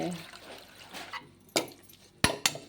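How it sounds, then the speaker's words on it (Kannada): Boiled noodles are drained and rinsed with cold water in a kitchen, a soft splashing pour followed by a few sharp metallic clinks of a pot or strainer, close by. "ನೂಡಲ್ಸ್ ಬೆಂದಾಗಿದೆ, ಇದನ್ನು ಸೋಸ್ಕೊಳ್ಳೋಣ."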